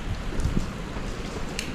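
Steady rain falls on a West Village street in New York City, a continuous close hiss with a few soft low thumps mixed in and no talking.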